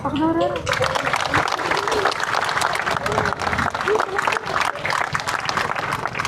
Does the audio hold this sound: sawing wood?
no